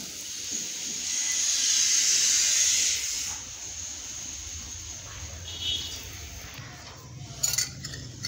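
Sesame-stuffed flatbread (til poli) roasting on a hot griddle gives a steady hiss of steam that swells and then eases, with a few faint clinks near the end and no talking.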